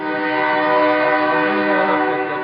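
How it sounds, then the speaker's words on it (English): A freight train sounds its horn in a long, loud, steady multi-tone blast close by, with the rumble of the train passing underneath at an outdoor evening gathering in San Diego. "Here comes that freight train."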